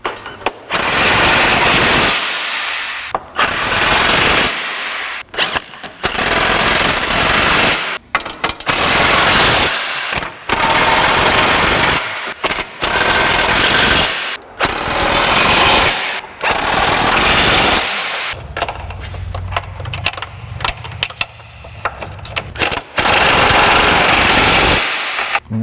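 A power tool fitted with a socket runs bolts down on a 1998 Chrysler Town & Country during transmission and radiator work. It sounds as loud, close, rattling hammering bursts of a few seconds each, split by short pauses.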